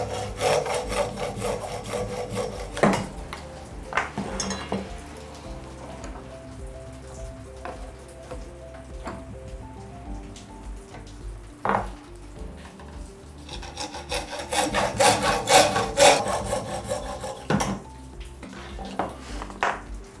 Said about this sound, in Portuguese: Vamos agora serrar os pedaços de PVC que vão compor a base.